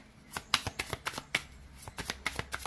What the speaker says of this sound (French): On va mettre tout de suite une carte sur le pape pour comprendre.